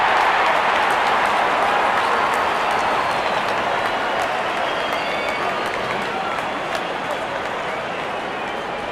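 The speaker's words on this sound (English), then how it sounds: "Out come the openers, cheered by a good crowd in." A cricket crowd in the Real Cricket 20 video game gives a continuous cheer and applause as the openers walk out, loud at the start and easing slightly toward the end.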